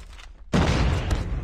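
A single loud, close SKS rifle shot in the Call of Duty Mobile game, a sharp broadband blast after a brief quiet gap, its sound carrying on briefly with game noise.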